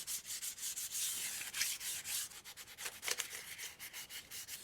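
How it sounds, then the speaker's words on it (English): Fine sandpaper rubs by hand over torched wood for an atlatl kit in quick, rhythmic back-and-forth strokes, close and fairly quiet, with no voices. "I'm going to use the fine sandpaper to just polish that grain down just a little bit"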